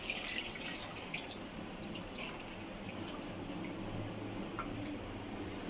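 Tamarind juice pours into a simmering fish curry in a pan, a soft, close liquid splash and drip with wet squishing, steady and faint, with no talking.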